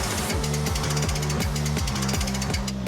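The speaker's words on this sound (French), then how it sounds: "On en finit d'enlever l'écrou, on enlève les petites bagues, et là on va pouvoir enlever la roue." A pneumatic impact wrench rattles a nut off a go-kart wheel, a loud, fast, rhythmic hammering burst that continues close up without pause.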